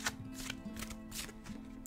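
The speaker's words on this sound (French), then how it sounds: "Nous allons tirer une carte obstacle." Tarot cards handled quietly as one is drawn from the deck, giving soft papery flicks and rustles over a low steady hum in a calm indoor setting.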